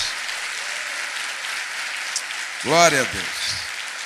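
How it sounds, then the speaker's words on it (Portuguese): A church congregation claps through a Sunday service, the applause running steady and moderately loud while a voice briefly speaks over it near the end. "Aplauda melhor, porque é para o Rei dos Reis, Senhor dos Senhores"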